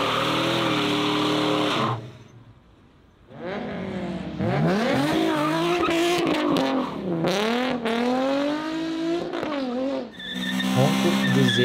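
A BMW M2 drifts with its engine roaring loud and close, revs rising and falling in long sweeping pulls, broken by a brief lull before the engine surges again.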